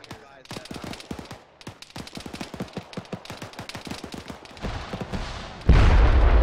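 Rapid gunfire bursts from an Arma 3 military firefight, dense overlapping shots building into a loud, sustained roar at the end.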